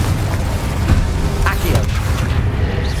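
A Confringo blasting spell goes off in Hogwarts Legacy, a few brief fiery bursts and booms over a dense, rumbling game soundscape.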